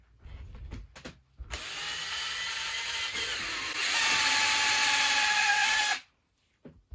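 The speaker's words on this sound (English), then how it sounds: "Drill out here." Power drill boring a hole into a wooden crate, a steady whining drone that rises in pitch and intensity partway through, then cuts off, with a few knocks before and after.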